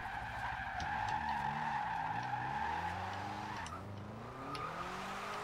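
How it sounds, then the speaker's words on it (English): A Toyota Celica GT drifts in the Forza Horizon 2 racing game, with continuous loud tire squeal over a wavering engine note as the car holds a long slide. "I tried to do some third gear sliding"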